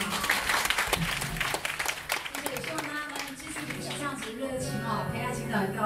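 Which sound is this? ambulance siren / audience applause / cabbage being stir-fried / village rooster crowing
audience applause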